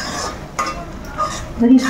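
Scraping and clinking of a utensil stirring vegetable koottu in a pot, a few short knocks against metal, close by with faint kitchen background.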